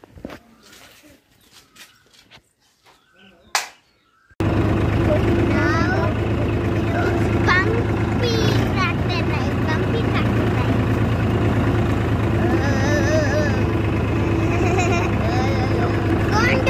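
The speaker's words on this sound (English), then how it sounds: "I'll show you our tractor." A farm tractor on a lemon farm is quiet for the first few seconds, then its engine cuts in abruptly with a loud, steady, close rumble that continues with voices heard over it.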